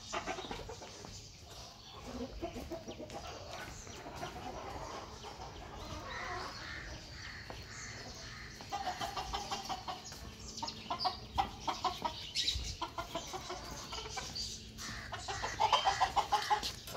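Chickens and roosters on a poultry farm, a continuous backdrop of clucking and crowing from many birds, growing busier and louder in the second half, with faint speech at times.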